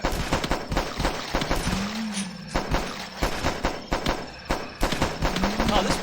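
Repeated pistol shots in a Flash video game, the weapon resembling a Beretta, crack out in rapid bursts over game noise and music, with a person talking throughout.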